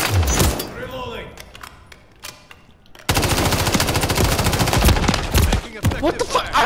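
Close gunfire in the video game Call of Duty: Modern Warfare III: scattered shots, then a sustained rapid machine-gun burst of several seconds and another short burst, mixed with in-game radio voices and a player's speech.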